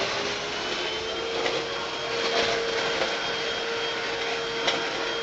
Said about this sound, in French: on va faire un coup d'aspi